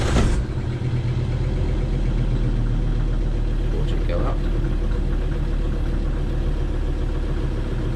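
Jeanneau Merry Fisher 655 boat engine idling with a steady low rumble throughout, a brief louder start at the beginning, with a person speaking over it.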